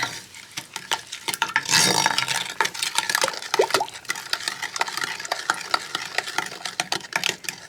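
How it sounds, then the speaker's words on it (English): A spoon stirs a cup of sugar into lemonade, giving a quiet run of scraping and clinking strokes against the container with soft liquid swishing and no talk. "then your sugar, cup of sugar, and stir that up"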